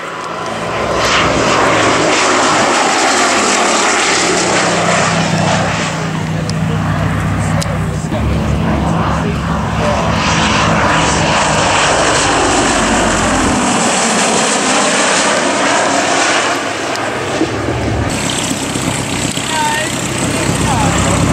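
A Gladiator biplane flying past at an airshow: a loud, sustained propeller-engine drone that swells and fades across the pass while a commentator talks over it.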